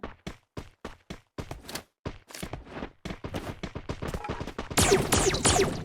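Rapid gunfire in a shooter video game, a string of sharp single shots that speeds into dense bursts and then a loud sustained volley, close and punchy, with no talk over it.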